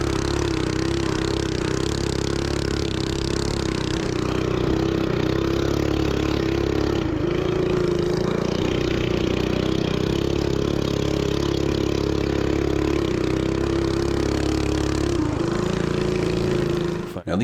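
A modded Coleman 224 mini bike riding alongside an ETM RTR electric moto, with a continuous close mid-pitched engine drone and steady whine throughout and some talk in the background.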